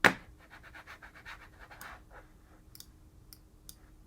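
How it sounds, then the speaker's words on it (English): Computer mouse clicks while drawing on a math lesson: one sharp, close click at the start, then a few light, scattered clicks over soft rhythmic scraping. "I'm just clicking all over the place here."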